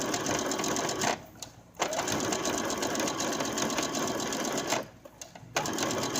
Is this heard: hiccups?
no